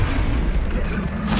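A Confringo blasting spell exploding in the wizarding game Hogwarts Legacy, a short, loud, low booming blast that rumbles briefly and ends in a bright crackle.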